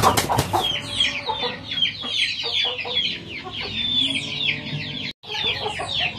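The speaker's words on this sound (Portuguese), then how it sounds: "Então aqui tem frangas aqui de 6 meses, tá?" Six-month-old pullets, young hens, clucking and chattering in a flock, a dense overlapping chorus of calls that runs steadily throughout with a brief dropout near the end.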